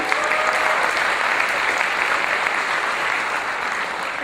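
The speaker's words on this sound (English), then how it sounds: "Now clap." Sustained, loud audience applause fills the hall at a Tamil community convention speech, a dense, even wash of clapping with no pauses or voices.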